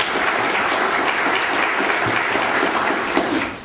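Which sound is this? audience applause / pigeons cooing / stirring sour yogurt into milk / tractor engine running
audience applause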